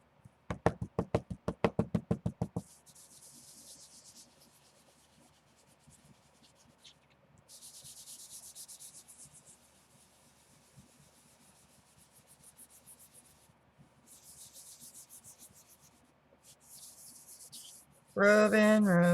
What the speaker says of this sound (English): Rubbing, rubbing, rubbing, and rubbing.